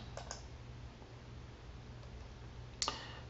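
A computer mouse clicks in a wallet app, giving two faint, sharp clicks, one near the start and one near the end, over quiet room hiss with no talk.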